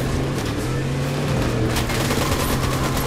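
Sustained machine turret gunfire in the Fortnite video game, a dense, continuous rattle with low rumbling underneath, steady and loud throughout with no voices.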